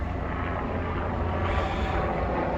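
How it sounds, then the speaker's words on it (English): A helicopter passes overhead in an outdoor seaside setting, its steady, loud engine and rotor roar filling the whole stretch without a break, with no speech over it. "See that helicopter there?"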